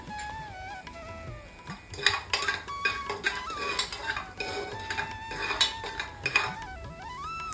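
Onions and cinnamon stick being stirred in a cooking pot over a low flame for plain biryani, with a spoon clinking and scraping against the metal in irregular taps and rattles, faint and close.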